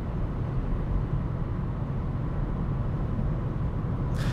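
Steady broadband road and wind roar fills the cabin of a 2016 Mazda 6 2.5 cruising at 110 km/h on a highway, a constant low rumble with no speech.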